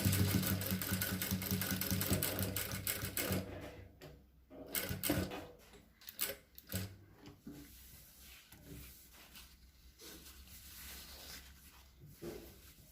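A sewing machine stitches a square neckline, running in a loud, fast, continuous whir at first, then in short stop-start bursts with mechanical clicks and handling noises between them.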